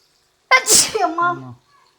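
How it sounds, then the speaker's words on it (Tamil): One person sneezes once up close, a sharp burst followed by a short trailing voiced sound, then silence. "தும்மல் போட்டேன் பிடிச்சிக்கிட்டு."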